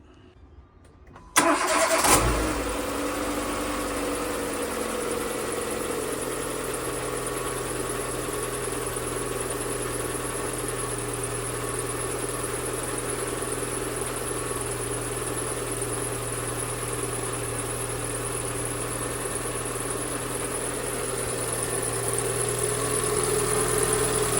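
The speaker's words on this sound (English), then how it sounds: "Right, let's start her up." A 2014 Renault Clio engine cranks and fires after a brief quiet start, then settles into a steady, even idle that runs close and constant for over twenty seconds.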